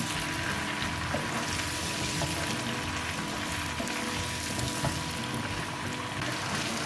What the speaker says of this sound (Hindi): गोश्त को हम सुनहरा होने तक भूनेंगे